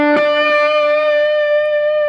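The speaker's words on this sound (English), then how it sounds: "That sound is produced by the whammy pedal and depressing it down." Sustained electric guitar note with overdrive, reverb and delay, shifted an octave up by a whammy pedal; a bright, steady, buzzing tone rings out alone after a brief pick attack.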